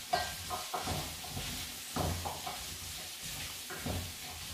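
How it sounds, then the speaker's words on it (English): Chickpeas with a little turmeric are stirred in a pan, giving soft scraping strokes and light sizzling in short repeated bursts, faint and close, with no talk. "Stir them together."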